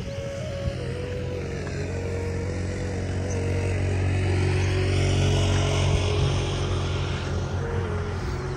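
Traffic on a road on a hilltop, heard as a continuous engine drone with low rumble and a shifting tone as vehicles pass, fairly loud and steady throughout, with no talking.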